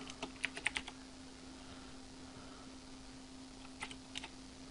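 Computer keyboard typing in short bursts, a quick run of close, light key clicks at the start and a few more taps near the end, over a quiet steady hum with no talking.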